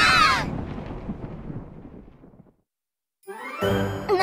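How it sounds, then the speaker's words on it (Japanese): A loud thunderclap from a lightning strike in an anime-style idol game scene, a heavy rumbling crash that fades into silence as the power goes out, then a brief burst of bright sound returns. "停電みたい。 雷が落ちたんだ。"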